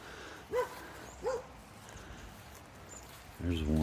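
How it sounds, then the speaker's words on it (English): A dog barks twice outdoors, each bark short and fairly distant and spaced well apart, before a person starts talking near the end. "It's somebody's dog."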